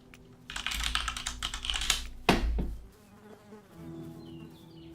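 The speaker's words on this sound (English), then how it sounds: "that little bit of buzzing you hear is from bees" Bees buzzing around beehives in the game Pax Dei, a faint insect drone beneath busy clattering, rhythmic tapping that sounds like keyboard typing, with one sharp bang midway before the buzzing continues softly.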